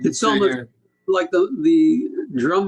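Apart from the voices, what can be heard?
No everyday noise stands out behind the speech.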